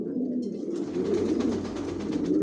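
Racing pigeons in a loft make soft, continuous low cooing, a steady murmur heard close and fairly quiet with no talk over it.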